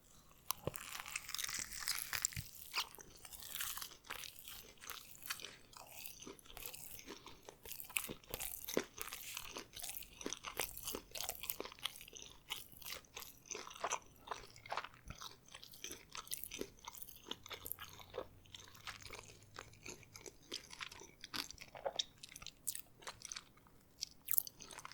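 Close, wet chewing and crunchy bites of food-court food, with steady mouth sounds and repeated crisp bite transients through the whole stretch, no talking.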